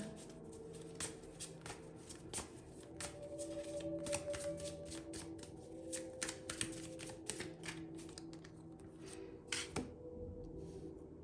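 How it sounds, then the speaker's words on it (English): Tarot cards are shuffled and drawn by hand, a quiet, close series of crisp riffling snaps and slides in irregular bursts over a faint steady hum, with no talk. "I'm gonna pull a couple of more cards"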